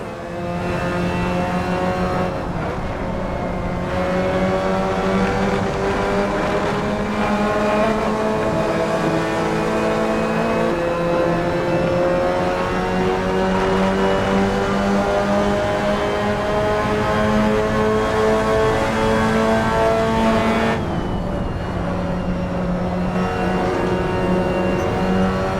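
Race cars in the Assetto Corsa racing game, with a loud, steady engine drone that rises and shifts in pitch through the gears, holding close and continuous with a brief dip near the end.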